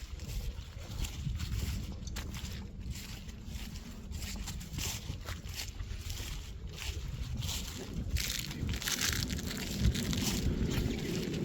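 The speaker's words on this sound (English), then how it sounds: "But the wind is kind of chilly." Wind blowing across an open field during a muddy countryside hike, a continuous rushing buffet with gusty mic rumble throughout, strengthening slightly toward the end.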